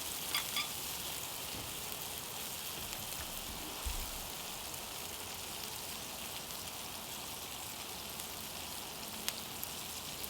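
Curry sizzling in a hot pan while being cooked for Maine lobster rolls, a steady dense frying crackle running unbroken throughout with a faint clatter or two, no talking.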